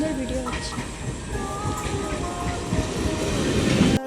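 A passenger train with its headlight on runs past in the dusk, a loud, close, continuous rumble and rattle of wheels and carriages that swells slightly near the end.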